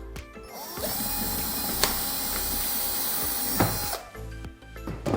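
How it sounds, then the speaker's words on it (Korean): An electric power drill bores a hole in the housing of a homemade UV mask sterilizer, whirring steadily at close range for about three seconds and then stopping, with clicks and handling noise before and after and no talk. "혹시 집에 전동 드릴이 있으시면 전동 드릴"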